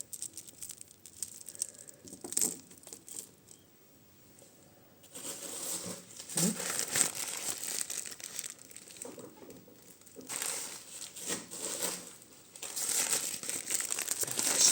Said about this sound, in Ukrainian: ще один пакетик такого ж кольору. Відкриємо